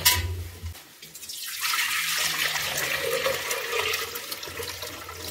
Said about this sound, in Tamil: பால் இதில் ஊற்றி காய்ச்சலாம்.